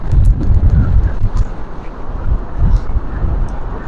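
Strong storm wind by the sea at Jaffna: loud, buffeting gusts rumble and roar against the microphone in uneven surges, with a constant noisy wash underneath.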